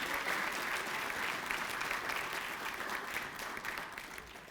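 Audience applauding at a master's hooding ceremony for College of Business and Public Affairs graduates, a steady, dense clapping from a large crowd in a hall that holds evenly and fades slightly toward the end.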